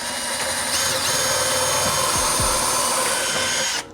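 A power drill whirs steadily as it drives a screw into a wall stud. The loud, close motor drone holds for about four seconds, with a couple of pitch dips partway through, then cuts off abruptly.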